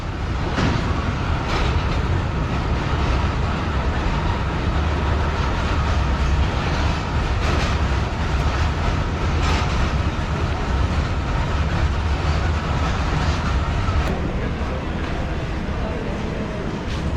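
A coal train rumbles past in Pakistan in a loud, continuous roar with rhythmic clickety-clack of wheels on the rails, and voices faintly mixed in.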